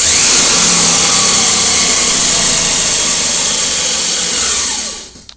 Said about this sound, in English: It'll be fairly loud when I press the accelerator. Watch it go negative just as the motor is winding down.